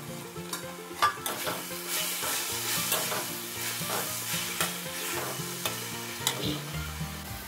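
Methi leaves and peas sizzle steadily in a pan, a continuous frying hiss with intermittent scraping stirs and light clinks of the spoon against the metal, while a low musical tone runs underneath.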